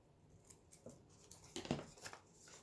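Scissors cut a coffee-dyed envelope in a few quick, faint snips close up, with one sharper crisp snap near the middle of the short run.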